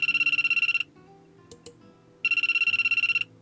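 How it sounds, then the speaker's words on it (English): A cell phone ringtone plays during the Amber Quartz visual novel game: a bright, pulsing electronic melody rings in one burst, stops briefly with a couple of faint clicks, then starts again at full loudness. "Just then a cell phone rang out."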